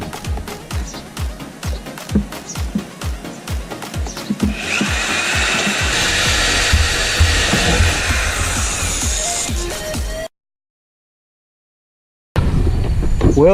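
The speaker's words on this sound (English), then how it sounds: "So now to drill these rivets out, which I'm not looking forward to doing, but it has to be done." A power drill bores out rivets on an Evo 9 JDM rear bumper, first with rhythmic stuttering pulses, then a sustained close whine that cuts off abruptly and briefly resumes.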